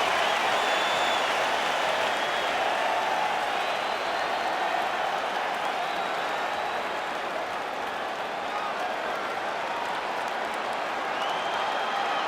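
A capacity arena crowd in the UFC 5 video game roars and applauds in a steady, dense wash of noise that stays loud and unbroken throughout, with no distinct voices standing out.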